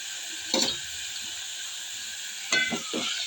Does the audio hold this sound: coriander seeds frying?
yes